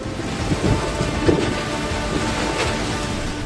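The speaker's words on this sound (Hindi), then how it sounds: "पोरबंदर, नलिया, भुज और कांडला में जोरदार बारिश हो रही थी" Heavy rain from Cyclone Biparjoy pours steadily in a loud, dense wash, with low thunder rumbling underneath throughout and no voices.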